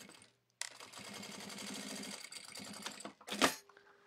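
Sewing machine stitching bias binding on felt, a short close run of rapid needle clatter after a brief silence, ending with a sharp click.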